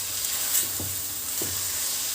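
Washed rice being stirred into cooked-down tomato in a pot, giving a few soft scraping sweeps and faint sizzling at a steady pace over a constant background hiss, with no talking.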